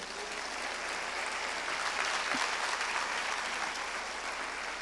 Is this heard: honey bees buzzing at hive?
no